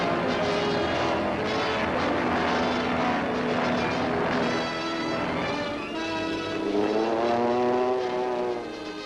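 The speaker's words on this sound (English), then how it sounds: "Planes warm up for a hazardous takeoff through wind and rain." Steady droning of World War II propeller aircraft engines warming up for takeoff in wind and rain, a continuous loud roar with shifting tones as engines rev.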